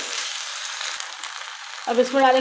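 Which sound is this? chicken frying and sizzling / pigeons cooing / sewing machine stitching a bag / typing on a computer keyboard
chicken frying and sizzling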